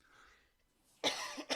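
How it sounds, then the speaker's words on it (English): Two sharp coughs from a person at a live online tech-show stream, a loud harsh burst followed shortly by a shorter second one, close to the microphone after a quiet moment. "These random coughs tonight."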